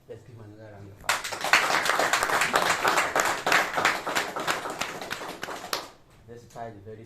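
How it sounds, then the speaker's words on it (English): An audience bursts into dense, steady applause for about five seconds at a formal courtesy visit to a traditional ruler, then it fades back to a quieter room. "Let's give another round of applause."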